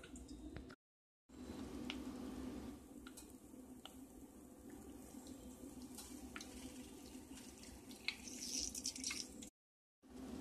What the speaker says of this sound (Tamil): ஒரு வடிகட்டி மூலமாக நம்ம இதை வந்து வடிகட்டிடலாம்